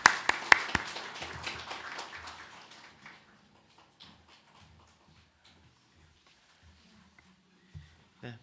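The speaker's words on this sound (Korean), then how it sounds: "우리 주님께 감사의 박수를 드리겠습니다" A church congregation applauding during a Sunday worship service; a burst of clapping in the first three seconds fades quickly, leaving near silence with a few faint thuds and shuffles.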